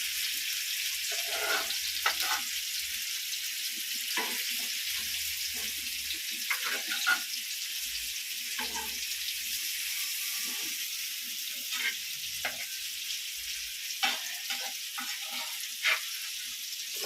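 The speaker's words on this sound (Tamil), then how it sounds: "பாயில் கொஞ்சோடு புளி தண்ணியும் ஊற்றிக்கிறோம்" Steady sizzling of prawn biryani masala frying in a pan as tamarind water is added, with occasional clinks and stirring scrapes, close and continuous.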